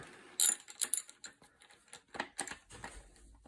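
A 1/2 inch socket wrench undoing a bolt on a Benelli Raffaello semi-automatic shotgun, a quiet series of irregular metallic clicks and ratchet ticks close by, with no talking.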